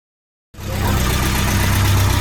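After half a second of silence, a repaired Porsche 944 Turbo engine fires up for its first start after sitting, then settles into a steady, slightly ticking idle that holds close and loud.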